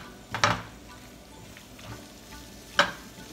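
Poblano pepper strips frying in a pan with corn kernels: a soft, steady sizzle with a few sharper scraping or stirring clatters from the pan, close and fairly quiet, with no talk.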